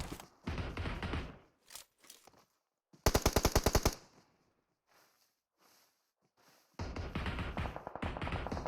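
Gunfire during a multiplayer shooter video game match: bursts of rapid automatic fire, with one long rattling burst in the middle and others before and after, separated by quiet gaps with faint taps and thuds.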